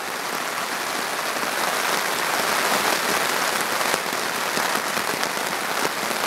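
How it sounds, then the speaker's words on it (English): Heavy rain pours down at a campsite on a solo canoe trip, a dense and steady hiss of drops that stays loud and unbroken throughout, with no voices. "it's just pouring rain"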